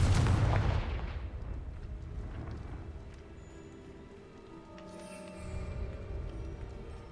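A Confringo fire spell explodes in the game Hogwarts Legacy: one loud, close blast that rolls into a long rumbling decay and fades out.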